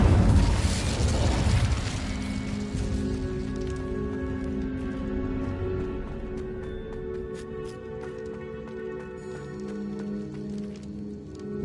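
A fire spell is cast in the game Hogwarts Legacy, with a loud burst of whooshing flame at the start that settles into a sustained crackling roar and a low, steady tonal hum for several seconds.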